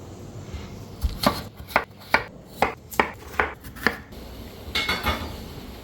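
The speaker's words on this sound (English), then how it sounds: "Now we're going to cut them up into bite-sized pieces." A knife chops potatoes into bite-sized pieces on a board in a home kitchen, with around nine crisp, evenly spaced strokes followed by a quicker cluster of cuts, all close and moderately loud with no talking.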